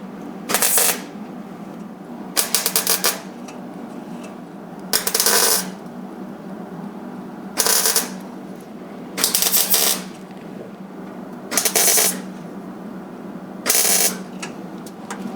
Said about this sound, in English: I got one plug weld on this other side here